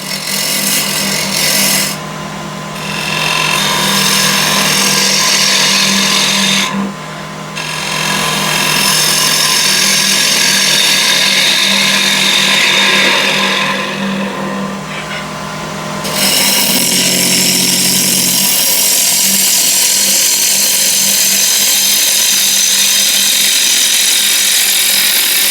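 A turning tool cuts wood on a lathe, giving a steady continuous scraping and hissing that runs almost unbroken for about 25 seconds, with brief pauses as the tool lifts from the spinning wood.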